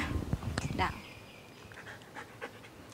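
Dog during treat training, panting and making small vocal sounds close by, mostly in the first second, with a faint whimper-like tone trailing off and quiet rustling afterward.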